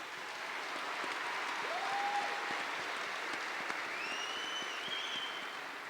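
Sustained applause from a large audience at a dairy cattle champion ceremony at the World Dairy Expo, steady and dense throughout, with faint whistles and cheers rising above it.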